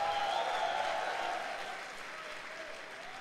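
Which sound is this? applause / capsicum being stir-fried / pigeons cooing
applause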